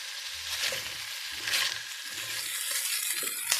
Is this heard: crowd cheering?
no